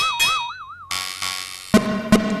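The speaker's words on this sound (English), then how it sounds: "It's just like boings and stuff." Silly cartoon boing sound effects: a wobbling, springy pitch-bending twang followed by a brighter boing and two short doink-like plucks, loud and alone.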